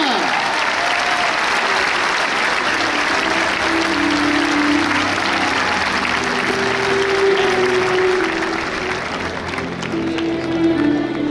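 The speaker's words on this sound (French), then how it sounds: "Un tonnerre d'applaudissements pour le rasoteur Joachim Cadena" A crowd at a course camarguaise in Arles applauds a raseteur, steady thunderous clapping across the whole stretch with voices and a faint tonal drone beneath.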